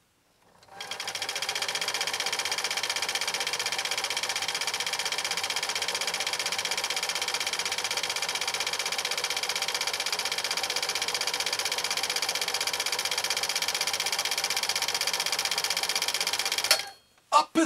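A New Home SL2022 all-mechanical sewing machine stitches a decorative stitch with a steady, continuous whirring hum for about fifteen seconds, close up and uninterrupted, then stops abruptly with a couple of brief clicks at the end.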